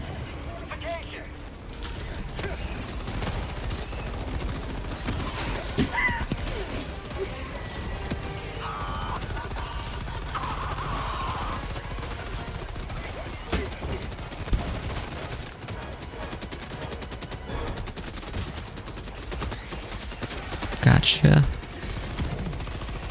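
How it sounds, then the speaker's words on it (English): Gunfire in the video game Helldivers 2 crackles as scattered shots and short bursts under steady combat noise, with a louder cluster near the end while a person talks. "Maybe a more concentrated fire would be helpful."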